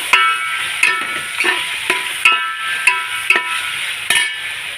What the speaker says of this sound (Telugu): ఇందులో మనం ఉడకబెట్టుకున్న పనసకాయ ముక్కలు వేసుకొని కాసేపు నూనెలో ఫ్రై చేసుకోవాలి